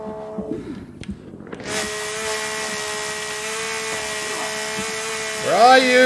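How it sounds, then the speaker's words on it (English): Chainsaw in the survival game The Forest runs steadily and loudly as a continuous engine drone, with brief revving toward the end and a few voices and game sounds around it. "No one can stand against the might of the chainsaw."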